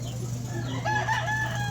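A rooster, one of several chickens up for sale, crows once partway through, a short rising call over a steady low hum with faint background voices.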